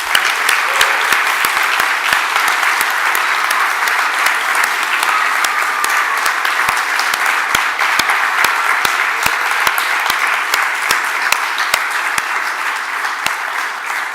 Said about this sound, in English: So can we have just a big round of applause for our volunteers?